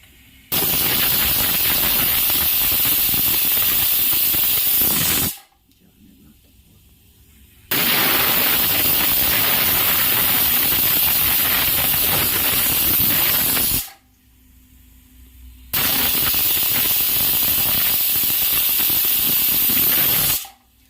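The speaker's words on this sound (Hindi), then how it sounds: "गैस सिम करके 3 सीटी हो गया, कुल 4 सीटी हुआ" Three loud, long hissing blasts of steam from a pressure cooker whistle on a gas stove at low flame, cooking chana dal, each lasting several seconds, separated by short quiet pauses.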